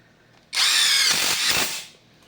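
An MTDTD-156 impact driver drives a screw in a single close, loud burst of about one and a half seconds, the motor's whine turning into a rapid hammering rattle before it winds down.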